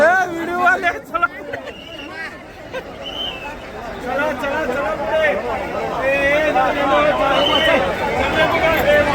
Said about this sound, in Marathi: सगळीकडं गर्दीच गर्दी गर्दीच गर्दी